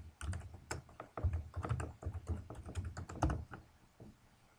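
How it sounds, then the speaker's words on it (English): Keys clatter on a computer keyboard as a username is typed in, a steady run of close, crisp clicks and thuds with brief pauses, no voices. "I'll type in my username again."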